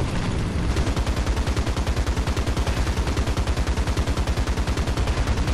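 Rapid, steady burst of a tank's coaxial machine gun in War Thunder ground battles, loud and sustained with evenly spaced shots throughout and no talk over it.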